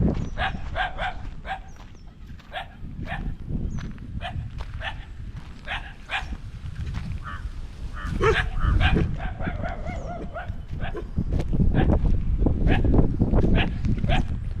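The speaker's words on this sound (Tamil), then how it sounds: "அங்கே பாருங்க எத்தனை நாய் இருக்குது பாருங்கள்." Native village dogs bark repeatedly in short overlapping bursts, several animals near and farther off, with a steady low rumble underneath and barking growing busier toward the end.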